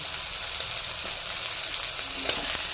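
Ridge gourd frying with prawn paste sizzles steadily and close, a constant hiss while salt, turmeric, red chilli powder and cumin powder are stirred in, with faint scrapes of the spoon.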